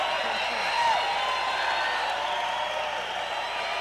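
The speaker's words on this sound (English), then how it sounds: "A standing ovation, ladies and gentlemen." Audience applauding in a standing ovation at a fight event, a steady wash of clapping and crowd noise that holds for several seconds at moderate loudness with no talk over it.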